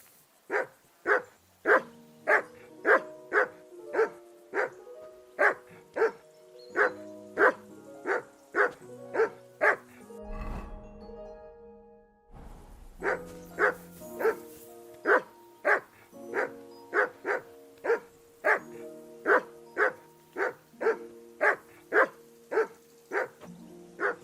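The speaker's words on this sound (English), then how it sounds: "Whistle at that mutt of yours to stop barking!" A dog in Kingdom Come: Deliverance 2 barks steadily in a fast, regular run, with a brief break in the middle before the barking resumes at the same pace.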